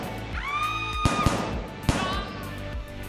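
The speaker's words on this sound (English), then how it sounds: "Sort of sounded like gunshots." Several sharp, loud gunshots ring out over a busy background, with a ringing tone in between and a final isolated crack.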